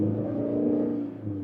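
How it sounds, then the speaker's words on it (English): Toyota Prado Adventure's mild-hybrid diesel engine revving under a light throttle, a loud, raucous, steady drone with strong low harmonics held close up throughout, no talking over it. "this thing is noisy, as you're potentially hearing there"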